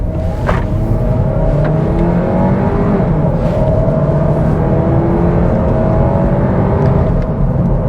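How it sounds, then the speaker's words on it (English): A 2022 Audi A3 sedan in sport mode accelerating from a stop, its engine note rising steadily in pitch with continuous road and wind noise inside the cabin, loud and unbroken with no talking. "So it's got modest acceleration"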